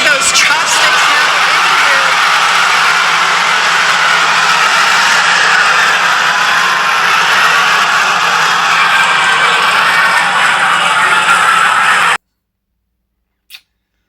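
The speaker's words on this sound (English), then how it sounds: "Landing burn, 13 ignited. We're now down to 3 Raptor engines." Roaring rocket engine noise from SpaceX Starship booster Raptor engines during the landing burn, a loud continuous broadband rumble lasting about twelve seconds before cutting off abruptly to near silence, followed by one faint brief click.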